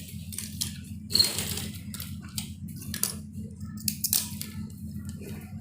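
A sewing machine runs in short bursts while stitching piping onto a baby dress, its steady low mechanical drone broken by brief clicks and fabric rustles, close-up with no talking.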